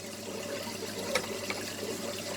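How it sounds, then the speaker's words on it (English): Reverse-osmosis water trickles gently and steadily into an aquarium, a soft, continuous splashing with a few faint drips, quiet and close, with no talking. "you can see the RO water there just trickling in nice and gently"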